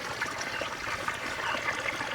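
Water trickles and splashes steadily from a solar-powered pump used for watering seedlings outdoors, a close, continuous wet patter with no voices.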